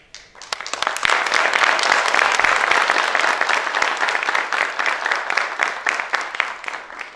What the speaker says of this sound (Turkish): Ya hazır bu alkışlar varken bir şey söyleyeyim